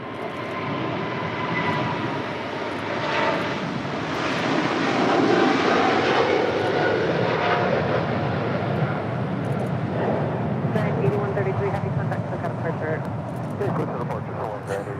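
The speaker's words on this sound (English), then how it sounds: "That was Atlas Air 8133 departing to Seoul on the 747-8 freighter." An Atlas Air Boeing 747-8 freighter departing LAX for Seoul, its jet engines a loud, sustained broadband roar lasting throughout, with scattered voices and radio chatter mixed in.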